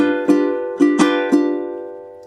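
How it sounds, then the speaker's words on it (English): Ukulele chord strummed four times in the classic Hawaiian strum pattern, light and bouncy, bright and close, ringing out at the end with no voices. "The strum pattern I'm using here is the classic Hawaiian strum, which we use almost all the time on ukulele"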